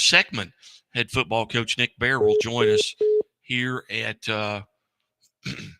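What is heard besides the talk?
phone beeping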